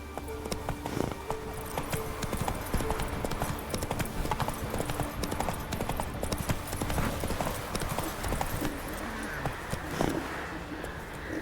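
A horse gallops in The Witcher 3, hooves pounding in a fast, steady clip-clop rhythm that stays loud and close throughout, with faint background ambience.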